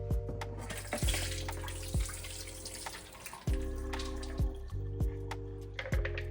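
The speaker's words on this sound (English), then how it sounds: "I will now sieve the beans to remove the water" Water pouring and splashing as soaked beans are drained through a sieve, with repeated clinks and knocks of metal against a bowl, close by.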